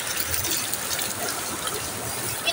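River water flows in a steady, close, continuous wash with a rushing, broadband texture and no pauses, carried along alone without any voices.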